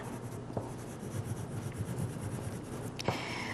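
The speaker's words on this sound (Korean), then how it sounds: "그래서 짙푸른 초록색으로 나무를 그리고 있습니다" Dark green colour drawn onto paper in a tree picture, a soft continuous scratchy rubbing of the drawing tool that stays close and steady, with a couple of slightly sharper strokes toward the end.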